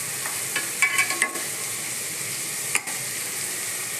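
Onions frying in a pan for a chicken curry, a steady close sizzle with a cluster of stirring scrapes and clinks early on and one more utensil knock later, no talking.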